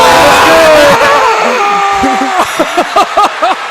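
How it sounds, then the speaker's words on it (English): A basketball crowd at a high school senior night game cheers loudly and continuously, with a commentator's excited voice chanting over the roar in short bursts. "Crowd going wild."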